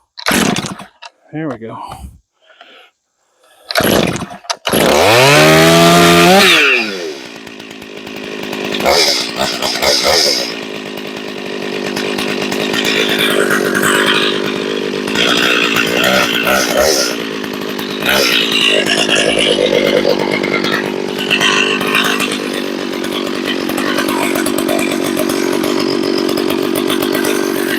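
A chainsaw mounted on a chainsaw mill starts up and runs loud and steady, its engine droning on while it warms up, with someone speaking briefly over it at the start.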